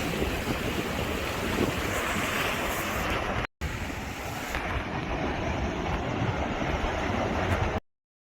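Sea waves wash along the shore by a seaside cafe in Aewol, Jeju, a continuous loud rush of surf heavily mixed with wind noise, with one brief dropout midway.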